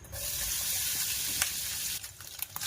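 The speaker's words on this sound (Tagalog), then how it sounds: "Pag mainit na po yung mantika, ilagay yung luncheon meat." Luncheon meat hits hot oil in a pan, a dense close sizzle that holds steady, then thins into scattered crackles and spits.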